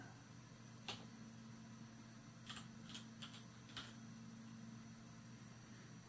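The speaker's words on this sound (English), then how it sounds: "just typing it in, one-handed." Several isolated key taps on a computer keyboard, entered one-handed while setting up a bed mesh on a Tridex 3D printer, scattered irregularly over a steady low machine hum.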